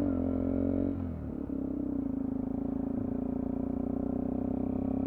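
A 2020 Sinnis Terrain 125 motorcycle underway, its small single-cylinder engine droning steadily with a brief dip in revs near the start before settling back into an even, close, continuous hum.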